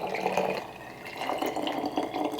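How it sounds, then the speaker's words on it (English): Rosemary simple syrup is poured through a strainer and funnel into jars, giving a steady soft trickling, liquid pour that swells and eases over a couple of seconds, close by. "I'm just pouring them through a strainer and obviously the funnel."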